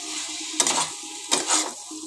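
Snake gourd (chichinga) frying in a pan over low gas, a soft steady sizzle broken by two louder scraping stirs, close and with no voices.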